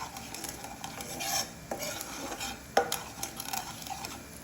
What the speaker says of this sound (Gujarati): ચણાનો લોટ શેકાઈ ગયો છે.